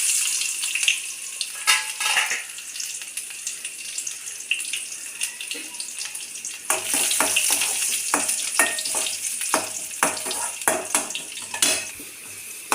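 Oil sizzles and crackles steadily in a pan, with a burst of louder spattering midway as chopped onion is added, plus occasional clinks.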